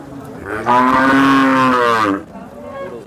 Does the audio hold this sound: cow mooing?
yes